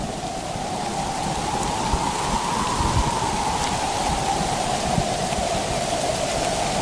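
A violent Kalbaishakhi storm lashes a Bengali village in an animated story: heavy rain roars steadily and close while low thunder rumbles and booms beneath it, with no speech.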